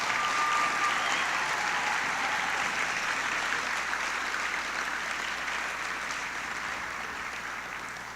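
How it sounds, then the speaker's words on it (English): Audience applause for students at a high school class night, a steady, dense clapping from a large crowd that holds for several seconds and slowly fades near the end, with no talk over it. "Let's give all of these deserving students a round of applause."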